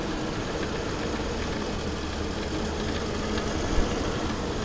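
A Mercedes W126 engine idles close by with a steady, low grumble that may come from a worn timing chain. The rough, even drone runs unbroken, with one faint knock near the end and no talking.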